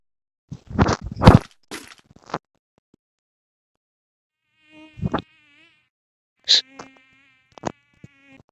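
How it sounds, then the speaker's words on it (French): A housefly buzzes around a person, passing near in short irregular bursts separated by quiet gaps, with some thumping handling noise at the start. "Dégage, sale mouche."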